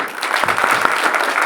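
Loud, dense applause from an audience at a political gathering, a continuous burst of many hands clapping close by, with no speech over it.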